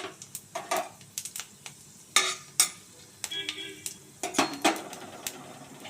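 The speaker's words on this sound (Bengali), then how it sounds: "তেল গরম হয়ে গেলে এর মধ্যে আমি দিয়ে দিচ্ছি শুকনো লঙ্কা, পাঁচফোড়ন।" Dried red chillies and panch phoron crackle in about two spoons of hot oil in a kadai, with a close run of sharp, irregular pops and spatters and a few metal scrapes.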